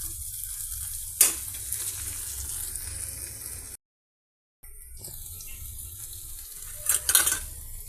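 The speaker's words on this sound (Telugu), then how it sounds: "ఈ విధంగా cocoa powder, ginger and garlic paste, salt ఒక నిమిషం పాటు ఆయిల్తో ఫ్రై అవ్వనిద్దామండి" Ginger garlic paste, cocoa powder and salt frying in oil, a quiet sizzle broken by a couple of sharp utensil scrapes against the pan, with a brief silent gap midway.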